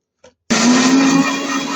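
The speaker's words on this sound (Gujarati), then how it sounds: "જીરુંની ધાણીને આ રીતે મિક્સર જારમાં લઈ અને દળી લઈશું" Lightly roasted coriander and cumin seeds grinding in a mixer grinder jar: after a brief click and a short silence, a loud, steady motor whir with gritty rattling starts and holds to the end, with no voices.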